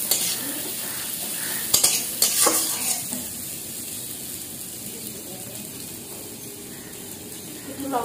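Green chillies fry in a hot pan with a steady broadband sizzle, broken early by a few sharp stirring scrapes and clinks before settling into even, close frying.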